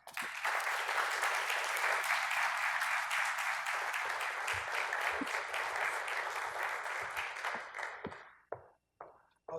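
A lecture-hall audience applauds to welcome a university lecturer, sustained dense clapping for about eight seconds before thinning into a few scattered claps and stopping.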